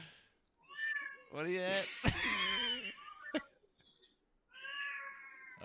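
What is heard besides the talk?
cat meowing, making a racket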